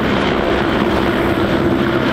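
Loud, steady rotor drone of a helicopter passing right over a house, sustained and close with no voices.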